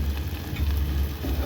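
Garlic sizzles as it hits a pan of softened spring onion, a steady close frying hiss over a low rumble, with no talking.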